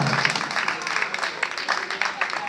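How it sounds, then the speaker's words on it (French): Audience applause at a French-speaking student integration evening, steady clapping throughout the short stretch with some voices mixed in. "Est-ce que vous pouvez applaudir pour Youssoufa ce soir"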